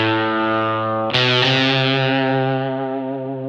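An electric guitar lead with a fuzz effect, played through a Kemper Profiler. A loud, buzzy sustained note is hit again with a sharp, bright attack midway and then rings out, thick with harmonics.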